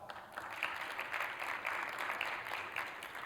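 Steady applause from an audience at a visual art talk, voting for the first entry by clapping, a continuous dense patter of many hands at moderate distance, fairly soft and even throughout.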